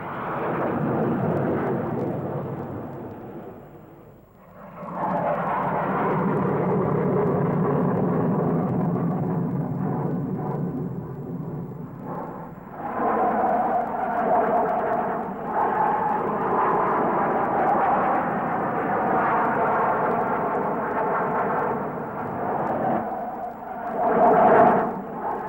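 English Electric Lightning jet fighters roar loudly in a vertical climb, a continuous powerful thundering engine blast that dips briefly and then swells again, with no talk.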